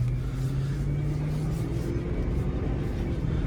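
Steady low engine drone and road rumble from a 2005 Ford Explorer XLT with a V8 as it drives off, heard from inside the cabin, with a faint tonal hum running continuously and no talk.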